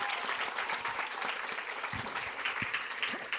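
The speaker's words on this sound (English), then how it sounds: "Round of applause for that." An audience claps in a steady round of applause at a live music talk event, dense continuous clapping holding at an even level for the whole stretch with no talk over it.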